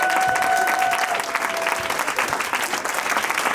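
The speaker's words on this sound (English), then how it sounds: "Could you give them just a standing ovation?" A conference audience rises in a standing ovation, producing thick, continuous applause from a large crowd that stays loud and even throughout, with a faint tone briefly audible beneath the clapping.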